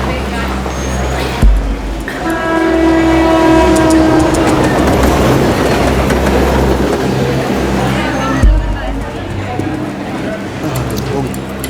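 A train sounds its horn at a railway station, rumbling and clattering loudly nearby, while people talk over the noise.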